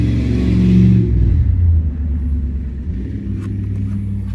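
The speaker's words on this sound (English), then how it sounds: "Car passing by." A car passes by outside with a loud low rumble that swells and then fades over a few seconds, engine hum lingering faintly afterward.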